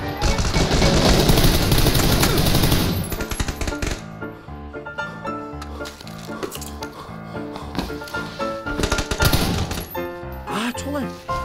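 Automatic gunfire in PUBG Battlegrounds crackles in rapid bursts, a dense volley up front followed by scattered shots and clatter. A Korean voice shouts and chatters over the shooting.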